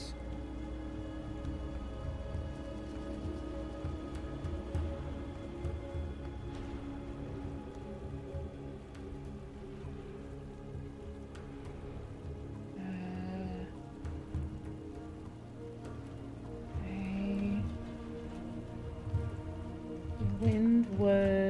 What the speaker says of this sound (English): It started raining when I walked back to the Lighthouse.